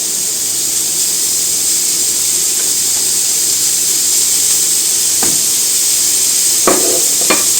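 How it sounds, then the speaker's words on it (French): Lardons fry in a pan on an induction hob with a steady, loud sizzling hiss. A few sharper crackles and pops break through near the end. "Et là, je vais faire revenir un petit peu mes lardons."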